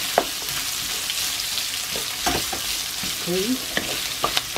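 Pork belly and onions frying in a pan for adobong sitaw, a steady sizzle under occasional stirring scrapes and clinks, with one brief spoken word near the start.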